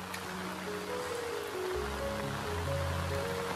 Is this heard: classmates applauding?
no